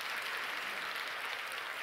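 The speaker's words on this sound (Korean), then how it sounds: "박수 한번 주시면 감사하겠습니다" A church congregation gives a short burst of steady applause during a prayer-meeting sermon, a soft, even wash of clapping that sounds somewhat distant.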